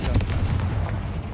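A Confringo fire spell blasts in a Harry Potter video game, a single short booming burst with a low rumble that fades quickly, close and loud with no talk.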